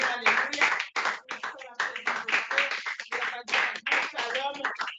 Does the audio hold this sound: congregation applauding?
yes